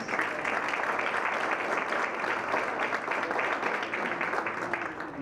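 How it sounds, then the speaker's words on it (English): Audience applause at a mayoral candidates' forum, a sustained dense wash of many hands clapping at moderate level throughout, with a faint voice underneath. "let's give them a big round of applause"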